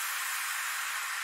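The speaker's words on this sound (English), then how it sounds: "Cashmere white noise." Cashmere exhaust white noise effect in a music production session, a steady bright hiss held evenly and alone for a moment, with no low end beneath it.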